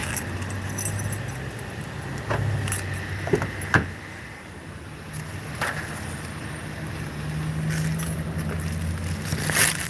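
A bunch of keys jingles close by while someone unlocks a car during a delivery gig, the metallic rattles coming in a few brief bursts over steady road and wind rumble.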